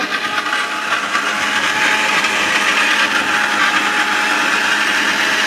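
An electric blender runs loud and steady in a pressure cooker shop demo, its dense motor whir holding constant from start to finish with no talk over it.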